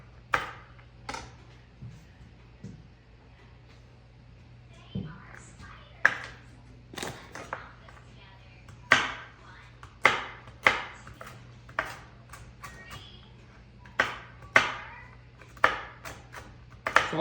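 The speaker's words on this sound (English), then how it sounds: "we're gonna chop these pecans for 1 cup" Pecans being chopped with a knife on a cutting board, a steady run of sharp, close taps that quickens in the second half, with faint background hum.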